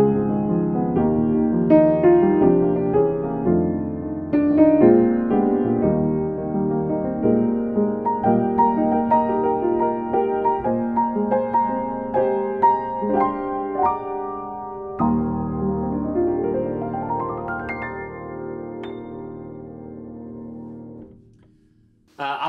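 Piano plays the normal ending of a song with a coda, a flowing run of melody and chords that sweeps up near the close and rings out softly before stopping.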